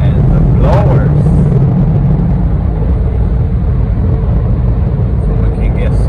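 Car wash blowers roar steadily over a 2018 Chevy Trax, a loud, continuous broadband rush of air filling the whole stretch, with a voice briefly speaking under it.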